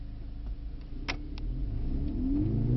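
Mercedes-Benz C63S E Performance accelerating at full power, heard from inside. The engine note builds and rises in pitch toward the end, with a low rumble underneath.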